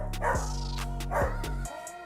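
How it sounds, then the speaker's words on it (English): Dogs playing together outside bark in several short, spaced yaps over a steady low hum, heard at moderate distance. "Outside, you'll hear the dogs."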